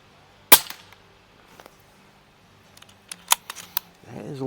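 An airsoft gun fitted with a C88 FX barrel kit on a Notos build fires a sharp, close shot, followed a few seconds later by a cluster of quieter clicks and snaps, with soft talk starting near the end.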